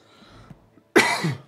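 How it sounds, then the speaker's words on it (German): One sharp, loud human cough after a short stretch of faint background noise, close and alone. "mein Husten sagt auch Hallo"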